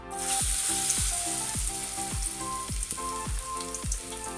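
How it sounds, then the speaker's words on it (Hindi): Potato, onion and green chili pakoras frying in hot oil, a steady loud sizzle with regular soft knocks of a utensil stirring in the pan. "अब मैं ये आलू और प्याज और सब्ज़ मिर्चें ये पकौड़े बनाने लगी हूँ।"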